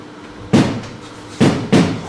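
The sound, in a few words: knocking at a door, stage sound effect in Macbeth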